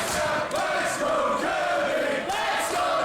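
Wrestling crowd at the Riverside roars in a dense, sustained wave, chanting and yelling loudly throughout with pitched voices rising and falling in unison.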